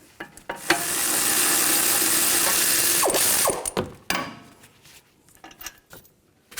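A ratchet with a 22mm socket loosening the caliper bracket bolts on a 2007-12 Nissan Altima: a few quick clicks, then a long loud buzzing run of rapid pawl clicks, followed by scattered metallic clanks and taps close by.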